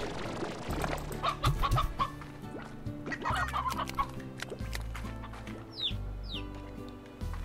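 Chickens in the video game Slime Rancher cluck in a steady busy chatter, with scattered squawks and a few higher chirps over a constant game background.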